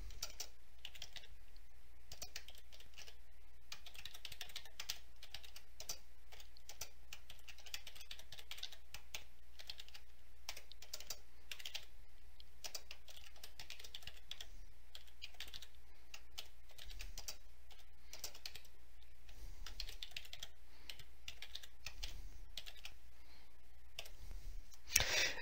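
SQL is typed on a computer keyboard in Teradata SQL Assistant, a steady stream of soft, close keystroke clicks with a few brief pauses, running alone and fairly quiet throughout.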